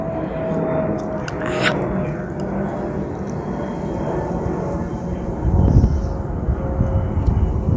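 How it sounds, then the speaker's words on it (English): A low, steady rumble of an airplane passing over the Old Male Asylum in Parramatta fills the background, swelling slightly toward the end, with faint voices now and then. "there's a plane going over right when we're trying to hear things."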